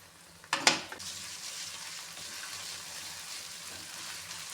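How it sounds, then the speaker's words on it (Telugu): Ginger garlic paste dropped into hot oil, bursting into a loud sizzle that quickly settles into a steady, moderate frying hiss close by, with no talking. "నూనెలో అల్లం వెల్లిగడ్డ పేస్ట్ వేసుకొని దీన్ని పచ్చివాసన పోయేదాకా మంచిగా నూనెలోనే ఫ్రై చేసుకోవాలి"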